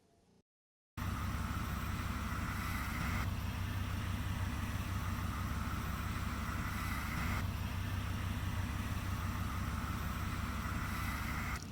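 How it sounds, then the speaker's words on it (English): A Ford Thunderbird engine idles in a deep, steady rumble that starts abruptly after a moment of silence and holds for about ten seconds with little change. "The sound this engine makes from this Thunderbird is just amazing."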